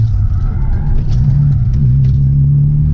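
Subaru fitted with a Toyota 1JZ inline-six, a loud, close, steady low engine drone that rises slightly in pitch with throttle, rumbling continuously throughout.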